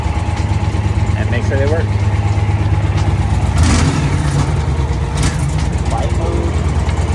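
A motorcycle fitted with a Dr. Jekill & Mr. Hyde exhaust runs close by with a loud, continuous low rumble, while someone talks over it.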